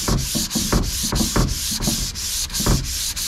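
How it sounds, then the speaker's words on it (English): Hand sanding a varnished wooden boat table with the grain between build coats, a steady close scratchy rubbing of paper on wood in repeated back-and-forth strokes, loud and continuous with no talking. "Quick sand here"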